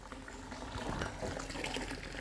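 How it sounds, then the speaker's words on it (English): Hot water runs steadily from a tap into a bath in a Maldives hotel room, a continuous close gushing and filling sound with no speech. "now the hot water is coming"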